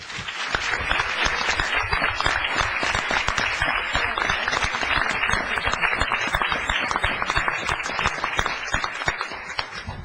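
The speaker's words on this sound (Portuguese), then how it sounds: "Eu queria uma salva de palmas para o Álvaro Augusto" An audience at an institutional ceremony breaks into sustained applause, dense overlapping clapping that stays loud and steady for about ten seconds with no one talking.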